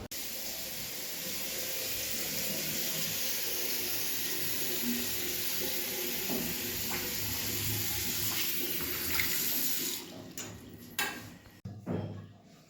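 Water runs steadily with a broad hiss while a bathroom is washed down, continuous and fairly close, then gives way near the end to scattered knocks and clatter.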